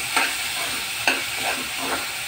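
Mushroom curry with cumin powder stirred in a pan, a steady sizzle broken by a few distinct scrapes of the spoon, close and fairly loud with no voices.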